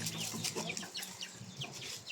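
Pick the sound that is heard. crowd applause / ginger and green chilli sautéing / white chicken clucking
white chicken clucking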